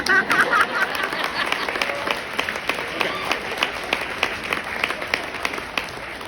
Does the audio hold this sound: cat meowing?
no